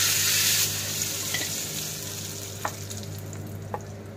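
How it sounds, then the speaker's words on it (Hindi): Mustard seeds and curry leaves sizzle and crackle in hot oil for tempering chutney, a loud steady frying hiss with a few sharp pops, no voices. "चटनी को तड़का लगा रही हूँ"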